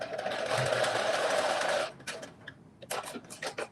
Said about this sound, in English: We're going to do a quick back stitch.